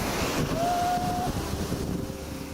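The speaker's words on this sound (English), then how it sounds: "In many places, scalding boiling water leaps violently from the dark earth." Strokkur geyser in Iceland erupts with a steady loud rushing hiss of boiling water and steam, buffeted by wind noise on the microphone, with a faint whistle-like tone briefly heard and no talking.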